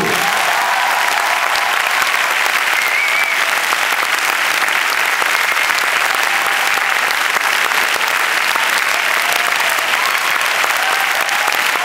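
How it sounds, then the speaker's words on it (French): Loud, sustained applause from a cinema audience giving an ovation to François Bégaudeau at a film premiere, a dense, even roar of clapping with no break throughout. "Merci de faire une ovation à François Bégodeau."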